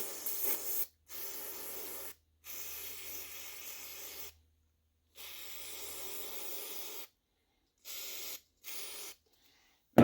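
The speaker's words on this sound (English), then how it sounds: "Basically, you're spraying out every orifice in the carburetor." Aerosol cleaner hisses into the orifices of a lawnmower carburetor in repeated bursts, several close, steady sprays lasting one to two seconds each, separated by short silences.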